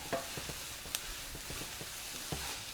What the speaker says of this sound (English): I'm just gonna let these onions get just a little tender before I add this taco mix in